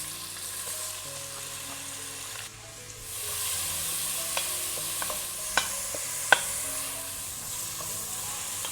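Chopped onion drops into a hot pan and sautés with a steady sizzle, while a spoon scrapes and clinks against the pan in scattered strokes. Close and fairly quiet, with no voices.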